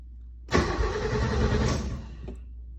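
A TVR 280i engine cranks on the ignition key and catches, then settles into a steady, loud, close mid-pitched run.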